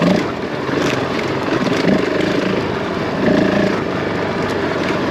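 A Honda CRF450L enduro motorcycle is ridden through a quarry, its engine holding a loud, steady drone with gentle swells in revs and rumbling wind noise close by throughout.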